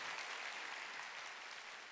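A church congregation at a midweek worship service claps together in a soft, even wash of applause that sounds faint and distant and holds steady for a couple of seconds.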